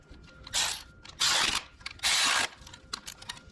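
A ratchet runs long 13 mm bolts into a VR6 accessory bracket, giving three clear bursts of rapid clicking of about half a second each, separated by short pauses, with faint handling noise around them.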